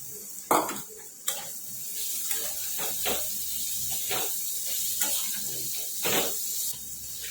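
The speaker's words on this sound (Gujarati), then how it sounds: "મસાલો શેકાઈ ગયો છે ડુંગળી એડ કરીશું" Onion stirred into roasted spices in hot oil for onion kachori filling, a steady sizzle under repeated scraping and clattering of a spoon against the pan.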